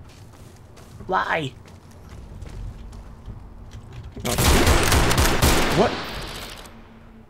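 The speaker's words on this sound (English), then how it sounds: "Who's shooting?" Gunfire erupts in the game Fallout: New Vegas: a loud, close burst of rapid shots rattles for about two seconds after quieter ambience, while someone speaks briefly over the scene.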